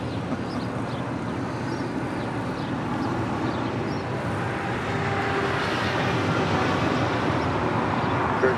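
An airliner lands on runway 25 left at Los Angeles International Airport, a loud broad jet roar that swells slightly toward the end, heard alone without talk.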